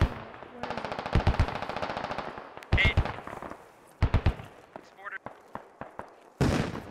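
Bursts of automatic rifle fire and single gunshots in the video game Squad Ops crackle in rapid rhythmic volleys, then break into scattered sharp shots nearby, with a voice talking over parts of the exchange.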